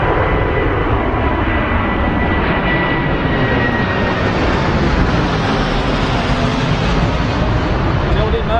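A Boeing 747 departs from Heathrow Airport, its broad, loud jet roar sustained throughout with a faint whining tone riding over the rumble.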